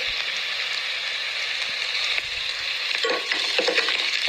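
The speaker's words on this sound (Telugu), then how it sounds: "అప్పుడు అందులో కొంచెం మంచిగా చాప్ చేసి పెట్టుకున్న గార్లిక్ వేసేస్తాము" Chopped garlic tossed into onions frying golden brown for a gongura chicken biryani, with a steady crackling sizzle and scraping stirs that grow busier near the end, close and continuous with no talk.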